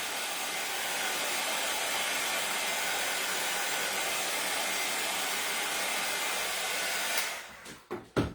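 Hair dryer blowing on Mod Podge during a pumpkin cutting board decor craft, a loud steady close whoosh running about seven seconds before it cuts off, followed by a few handling knocks.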